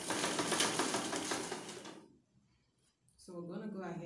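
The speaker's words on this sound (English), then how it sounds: "we're going to stitch it by 1/2 inch" A sewing machine stitches a side pocket in a rapid, even run of needle clatter for about two seconds, then stops; a voice speaks briefly afterward.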